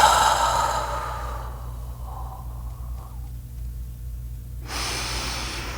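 A long, deep breath pushes out steadily during a guided breathing exercise, loud at first and tapering into a quiet lull before a fresh, softer airflow rises at the end.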